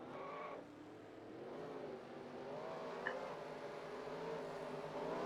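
Race car engines in the NASCAR Racing 2003 video game, at a Texas race, produce a low, steady, fairly quiet engine hum that rises slightly, with no talking.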